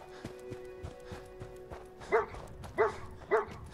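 A dog barks in the video game Fallout 4, three clear yips near the end after quieter footsteps and clatter, moderately close, with no talking.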